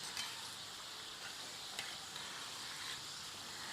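Kapani snacks fry in hot oil on a low flame, giving a steady, faint hiss and sizzle with light crackles, alone and unbroken.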